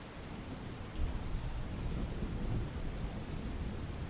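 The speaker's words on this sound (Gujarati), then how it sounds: "ગાંધી રોડ, શાસ્ત્રી રોડ, બાબેનગામ સહિતના વિસ્તારોમાં વરસાદી ઝાપટા પડી રહ્યા છે।" Steady rain pours down during a weather change in Bardoli, Surat, with a low rumble of distant thunder rolling beneath a constant dense hiss of falling water.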